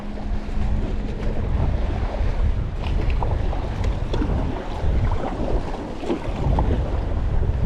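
Steady wind roars and buffets across the microphone while a kayak is paddled out on open water through rough weather, with the wash of water and waves beneath it and no talking.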